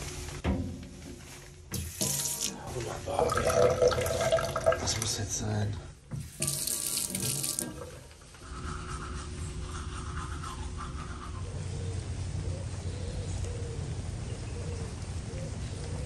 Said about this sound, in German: Oh, wenn hier überhaupt Wasser läuft,